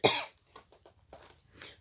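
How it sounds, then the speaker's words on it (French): A woman coughs sharply a few times, one loud burst followed by several smaller hacking coughs and a throat clear, close and alone in a quiet room. "à force de tousser."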